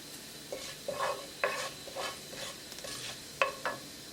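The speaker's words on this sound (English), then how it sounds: "As the oil starts to heat up, add cumin seed. Give it like 10 seconds." Cumin seeds cooking in a tablespoon of hot olive oil: a low sizzle beneath a run of repeated scraping spoon strokes against the pan, close and rhythmic, with no speech.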